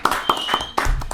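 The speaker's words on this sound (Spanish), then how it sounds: "¡Palmas!" Sharp handclaps land on a steady beat, about five in just over a second, close and fairly loud over a sustained tonal background.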